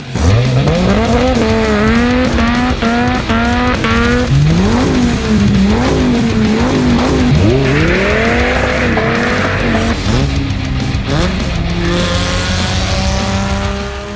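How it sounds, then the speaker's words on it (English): A loud Dodge Viper 8-liter V10 engine revs hard through repeated manual gear changes, its pitch rising and dropping, with tire squeal partway through, close and continuous. "The absolutely massive 8-liter V10 engine, manual only, rear-wheel drive monster of a machine, the Dodge Viper."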